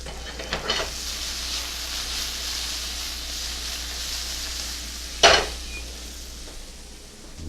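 Shrimp and snow peas stir-frying at high heat in a pan, a loud steady sizzle with occasional stirring scrapes and one sharp clink of a utensil against the pan.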